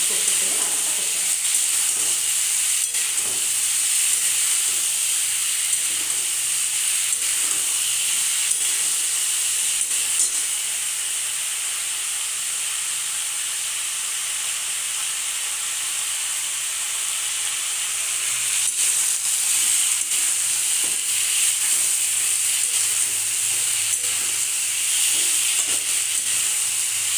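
Fried fish with ridge gourd and eggplant cooking in refined white oil, giving a close, steady bright sizzle and hiss that runs throughout, with brief stirring noises now and then.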